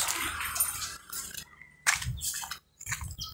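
A dog eats from a frying pan, making wet, squishy lapping and chewing sounds in short bursts separated by brief pauses, fairly close and quiet.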